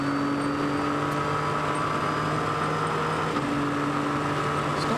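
A race car engine that will not pull its revs in top gear, a steady droning hum that stays at one pitch without climbing, heard alone and continuously at moderate distance.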